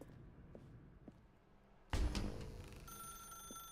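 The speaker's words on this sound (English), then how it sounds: "Actually, I won't pick up the phone." A telephone rings in the video game The Stanley Parable Ultra Deluxe, a sudden loud electronic ring over quiet room tone that keeps on with a bright, steady warble.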